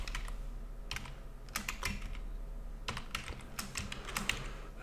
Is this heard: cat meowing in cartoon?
no